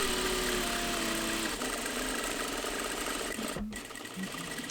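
A sewing machine stitching a quarter-inch seam on a dress bodice sleeve, a steady fast mechanical whir running continuously at close range, with a brief higher-pitched clatter near the end and no voices.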